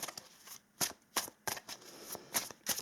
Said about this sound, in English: I'm just going to shuffle for a couple of times, and then I will draw if they don't pop real quick